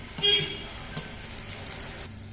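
Chopped ginger and garlic sautéing in oil in a pan, a soft steady sizzle with a few brief clinks of stirring, heard close.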